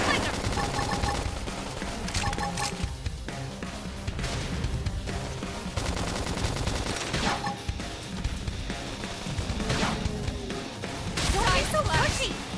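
Gunfire in the video game Xenoblade Chronicles X: Definitive Edition, with rapid volleys of shots and impacts clattering through a busy mix of battle effects and music, steady and loud throughout.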